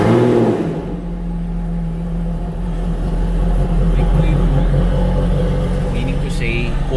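A car engine cranks and starts cold in a showroom, then revs and holds a steady hum, heard up close with a voice talking over it.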